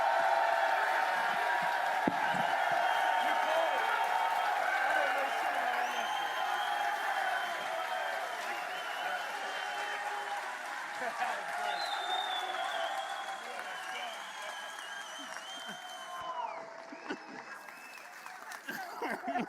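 A crowd at an East vs West arm-wrestling event claps and cheers loudly and continuously, with whoops and scattered laughter, while voices talk over the din before the applause slowly tapers.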